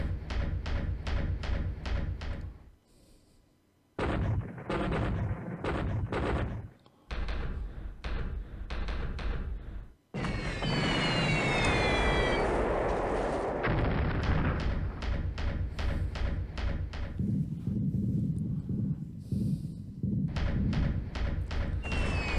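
Bombs burst in a naval war video game set in 1943, with rapid rhythmic thumps and booming blasts in bursts, separated by short quiet gaps and a longer rushing roar in the middle.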